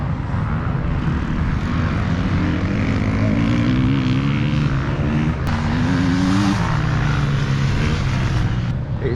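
Several enduro racing motorcycles from the Lincolnshire Enduro Club roar continuously across a spread-out field course, engines rising and falling in pitch as bikes pass at moderate distance, a steady loud drone throughout with no talk.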